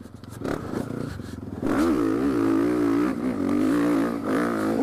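Motocross motorcycle lapping a rough dirt track, its engine note rising and falling as it revs and shifts, close and loud throughout with a steady, harmonic drone after a sharp throttle-up.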